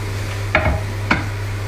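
Cubed aubergine drops into a pan of frying onions, giving two brief close clatters and stirring scrapes over a soft, steady sizzle, with no talking.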